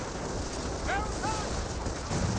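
Incendiary grenades go off in the World War II strategy game Company of Heroes, heard as a rough, continuous rumble of battle, with a few short whistling sounds partway through and a voice talking over it.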